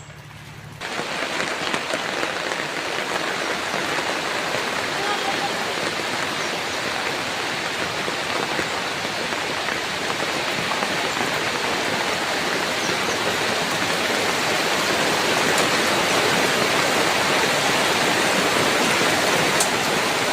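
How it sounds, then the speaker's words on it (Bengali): Steady, dense hiss of rain falling in the Sundarbans, continuous and fairly loud, building slightly toward the end. "হ্যাঁ বৃষ্টি আসছে তো"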